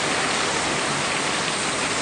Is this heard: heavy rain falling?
yes